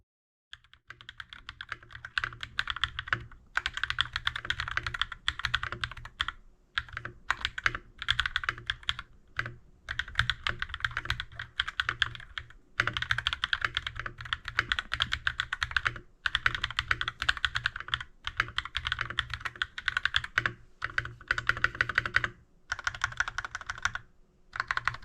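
Typing on an Akko 3068B Black and Gold mechanical keyboard, a close, steady stream of crisp key clacks in bursts with brief pauses, heard alone without any voices.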